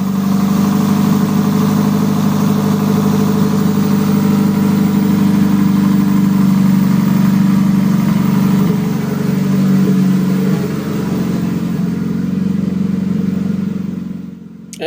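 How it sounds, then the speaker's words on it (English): A Toyota 5SGTE engine in a first-generation MR2 idles through a 4-inch straight-through aluminum exhaust with cutout, a deep, droning rumble holding steady before the pitch shifts and settles lower toward the end. "The exhaust system is 4 inches straight through aluminum with an electronic cutout to an OEM Civic muffler"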